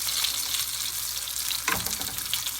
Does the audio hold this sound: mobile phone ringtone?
no